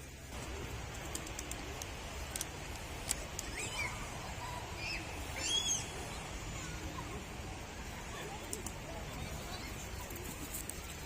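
Pigeons coo softly in the distance on a snowy winter day in Samsun, Turkey, over a steady outdoor hiss, with a few faint chirps and rustles scattered throughout.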